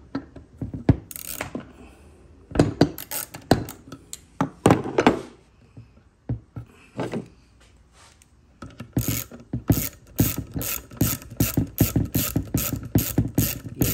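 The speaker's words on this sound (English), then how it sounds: "you're gonna go ahead and take the little little adjuster nut off of there, the little lock nut rather." Ratcheting wrench loosening a corroded lock nut on a 2004 Troy Bilt pressure washer, with irregular bursts of clicking early on and then a steady, close, rapid run of ratchet clicks.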